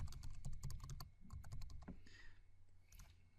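Password keystrokes on a computer keyboard, a quick run of crisp clicks for about two seconds, then a pause and a few scattered taps, close and fairly quiet.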